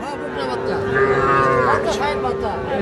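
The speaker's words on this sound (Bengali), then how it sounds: "এটাও একটা বকনা বাছুর।" A young heifer calf at a cattle market lets out a loud, sustained moo close by, one drawn-out bellow over a steady murmur of the crowded market.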